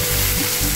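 Potatoes and three slit green chilies frying in oil in a pan, a loud, continuous close sizzle with a soft bubbling hiss throughout, no voices.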